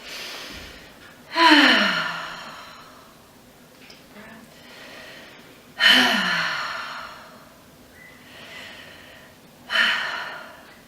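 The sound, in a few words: deep breath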